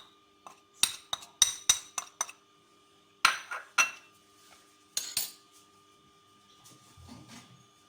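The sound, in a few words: spoon mixing spices in a dish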